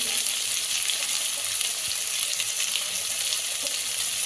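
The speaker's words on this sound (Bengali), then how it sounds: "এবার লবণ হলুদ দিয়ে পেঁপেটা একটু ভেজে নেবে" Thin strips of papaya and potato fry in hot oil with salt and turmeric, giving a steady, dense sizzle that runs unbroken at close range with no voices.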